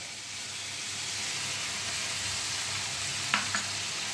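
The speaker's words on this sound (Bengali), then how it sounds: "এবার এই পেঁয়াজ রসুন আদাগুলো আমি 2 মিনিট মতো ভালোভাবে কষিয়ে নেব" Onion with ginger-garlic paste sautés in a pan for fish rezala, giving a steady, even sizzle throughout, with a couple of brief scraping stirs near the end.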